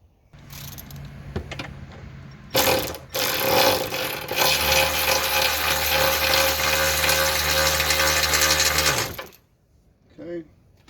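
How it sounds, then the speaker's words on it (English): Work on an ATV wheel for a 2019 Outlander 450 with 28-inch Pioneer wheels, fitting a new nut, bolt and washers: a few short metallic knocks lead into a loud, continuous powered whirring of a tool lasting about six seconds, then stopping abruptly before a brief voice. "So let's go ahead and throw a new nut and bolt and washers on this end."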